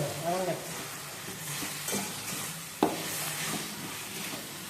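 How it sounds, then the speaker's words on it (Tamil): Chopped tomatoes sauté in hot oil in a pan for a spicy prawn thokku gravy, giving a soft, steady sizzle broken by a few scraping stir strokes. "நல்லா வதங்கினாதான் கிரேவி நல்லாயிருக்கும். வதங்கி எண்ணெய் பிடிக்கணும்."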